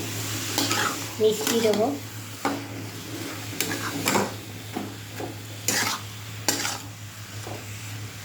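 Fish curry is stirred in a frying pan, with a sizzling bubbling bed and repeated clinks and scrapes of a spoon against metal, while someone speaks briefly over it.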